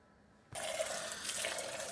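A garden tap is opened after a quiet moment and water gushes out steadily for vegetable-bed watering, a close, continuous splashing rush with no talk.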